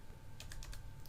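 A short burst of soft, quick taps on a computer keyboard, five or six keystrokes in a row over low background hum, with nobody speaking.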